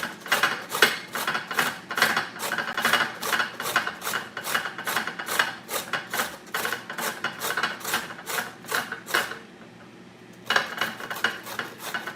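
A hand grater rasps food into a deep bowl in a fast run of regular scraping strokes, close and crisp, pausing briefly near the end before the strokes resume; no talking.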